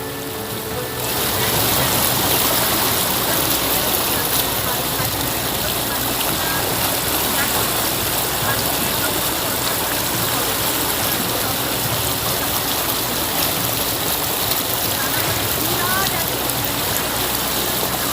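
Floodwater flowing through city streets in Kolkata after overnight low-pressure rain, a continuous dense rushing wash that stays loud and even throughout.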